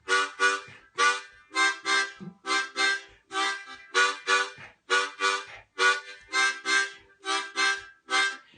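A harmonica plays a rhumba groove with the first beat of each pattern dropped, giving short chordal bursts in a lopsided, steady pulse of paired blows, close and clear with no talking.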